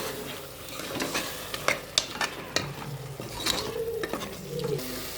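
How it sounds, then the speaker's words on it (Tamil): Ground green masala of coriander, mint and green chilli being stirred into a chicken curry in a pan: soft sizzling under repeated scraping and tapping of a spoon against the pan, irregular strokes, close and moderately quiet. "இதையும் போட்டு மிக்ஸ் பண்ணிக்கிறேன்."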